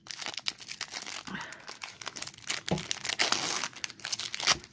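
Plastic wrapping being torn open and crinkled on a Pokémon 25th anniversary celebration box, a close, busy run of sharp crackles, rips and crunches in irregular bursts with no talking.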